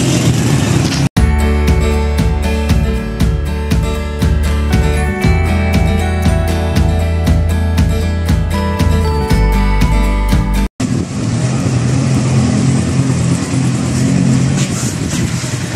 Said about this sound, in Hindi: नाज साहब तशरीफ़ ले आ चुके हैं जनाब मोटरसाइकिल पे